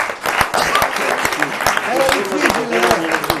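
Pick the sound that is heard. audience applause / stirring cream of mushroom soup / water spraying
audience applause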